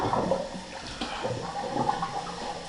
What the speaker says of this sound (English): We just empty the water out.